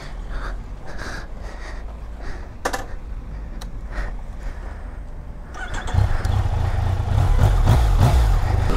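A motorcycle fitted with a brand-new tyre starts up and pulls away for a test ride on a road trip, the engine note rising from a low idle to a loud, steady riding rumble in the second half.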